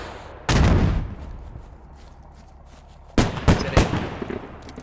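A rocket launcher fires at a Bradley vehicle in the military shooter game Squad. A sharp loud blast is followed by a decaying rumble, and a cluster of further booms and cracks comes a few seconds later.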